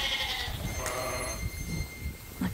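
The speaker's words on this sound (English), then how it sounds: "So Arnie's giving some straw to these guys on the ram side." Suffolk rams and ewes bleat inside a barn while straw is handed out. Several wavering bleats overlap with close rustling and shuffling.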